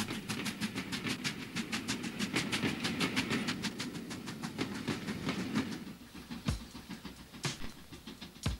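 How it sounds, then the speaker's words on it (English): A Black 5 steam locomotive chuffs in rapid, regular beats as the train runs along, then the rhythm slows into a few heavier, spaced clanks. "The smoke and steam of a Black 5 engine."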